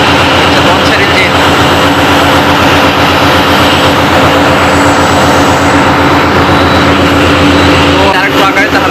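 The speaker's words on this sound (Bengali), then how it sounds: "লঞ্চের ইঞ্জিন।" A big engine aboard a passenger launch roars steadily at close range, a heavy, constant droning rumble with a strong low hum. A brief clatter comes near the end.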